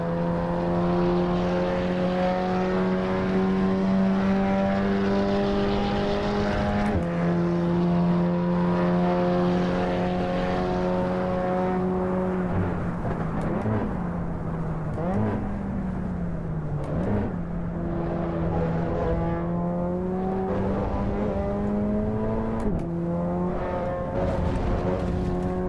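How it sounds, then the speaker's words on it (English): A Volkswagen Golf engine in the Assetto Corsa Evo racing game drones steadily and loudly from the cabin, muffled, with the pitch rising and dipping through gear changes and revs over the whole stretch. "I like the sound of the engine."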